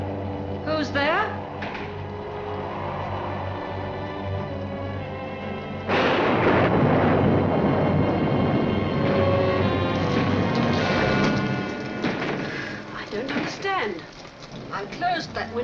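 A thunderstorm rages outside an old house: rain hisses steadily, then a heavy rumbling crash of thunder swells and rolls on for several seconds, with people talking intermittently over it.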